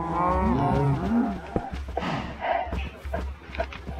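Cows in the Minecraft video game give several drawn-out, low moos through the first second and a half, followed by scattered clicks and clatter from the game.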